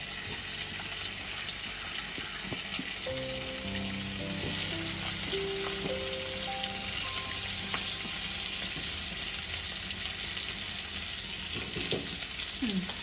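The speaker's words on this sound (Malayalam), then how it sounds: "എണ്ണ ചൂടായിട്ടുണ്ട്. നമുക്കിനി ചിക്കൻ ഓരോ പീസസ് ആയിട്ട് നമുക്ക് ഇതിനകത്തോട്ട് ഇട്ട് കൊടുക്കാം." Chicken pieces fry in hot oil for an Arabic chicken mandi, producing a loud continuous sizzle and hiss with a few clinks and brief tones mixed in.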